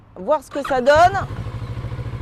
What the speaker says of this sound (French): On va déjà tout de suite allumer le moteur